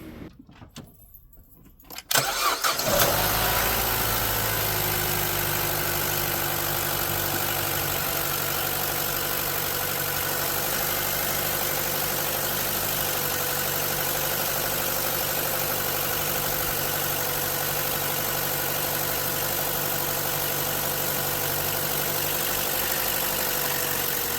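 A 2014 Chevy Cruze with 160,000 miles, checked after a misfire repair, cranks after a quiet moment and settles into a steady, close engine idle that hums evenly to the end.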